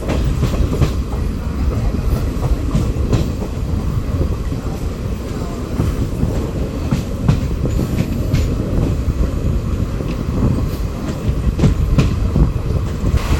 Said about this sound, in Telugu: మన ట్రైన్ వంద కిలోమీటర్ల స్పీడ్కు దగ్గరలో ప్రయాణిస్తోంది